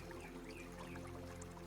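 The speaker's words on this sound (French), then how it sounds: "Elle jaillit en petites cascades entre des pierres couvertes de mousse" Spring of the Cesse river trickling in small cascades over moss-covered stones in a beech and chestnut forest, a steady low wash of running water, continuous and close, with no voices.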